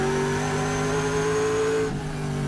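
Trans Am race car on board at Thunderhill, driven by Troy Ermish, holding a loud steady high engine drone as it enters turn 1, then the pitch drops sharply as it brakes near the end.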